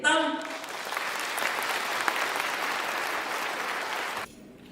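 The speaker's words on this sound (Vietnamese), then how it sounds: "một tràng pháo tay để chào đón Hòa thượng Thích Thiện Tông" Full, steady applause from an audience welcoming a Buddhist monk at a community gathering, loud and sustained for about four seconds before cutting off abruptly.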